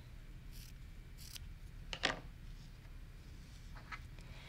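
Scissors snip through quilting fabric to cut a V shape while piecing a starburst block with a 30-degree triangle ruler; a brief, close crisp cut stands out from quiet room noise, with a couple of faint softer snips around it.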